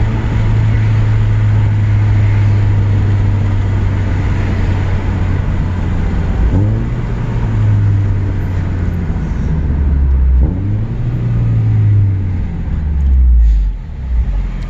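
A 2015 Scion tC fitted with Weapon R headers drones loudly through its exhaust, and the engine note rises and falls twice as the driver downshifts, under heavy wind rush and road noise inside the moving car.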